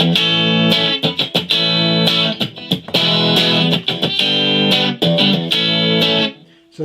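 Homemade Telecaster electric guitar on its bridge pickup played through an amp with slight gain and no reverb, bright ringing chords strummed in repeated bursts with short gaps, loud and close, ending in a fading ring.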